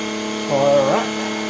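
A lathe or similar workshop machine revs up while a bolt for a banjo connector is being made, giving a brief rising then falling whine that stands alone against a steady background hum.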